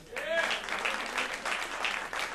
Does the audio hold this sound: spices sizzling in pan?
no